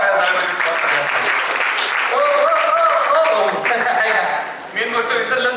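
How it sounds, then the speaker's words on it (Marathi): Loud, sustained audience applause fills a Star Pravah stage event, with musical tones and voices running underneath throughout. "एकदा जोरदार टाळ्या झाल्या पाहिजे"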